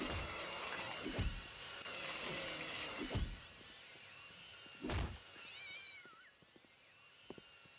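A cat meows several times in the video game Postal 2: Apocalypse Weekend, short repeated cries spaced a couple of seconds apart over clicking, mechanical in-game sounds, with no talk.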